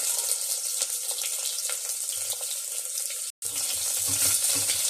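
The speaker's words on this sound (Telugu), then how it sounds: "వీటిని బాగా ఫ్రై చేసుకోవాలి. లైట్గా బ్రౌన్ కలర్ వచ్చే వరకు ఫ్రై చేసుకోవాలి." Onions and curry leaves frying in a pan for a bottle gourd and moong dal dish, a steady close sizzle with a brief break before it resumes.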